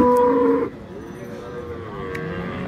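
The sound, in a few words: Friesian cow mooing at a cattle market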